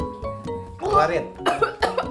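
A person who has choked on meat gives a few harsh, close coughs, with voices mixed in around them.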